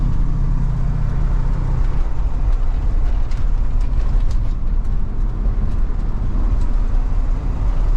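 A 1985 Chevrolet Suburban Squarebody with an NV4500 manual transmission driving, heard from inside the cab as a steady, loud low engine and road rumble, with no voices.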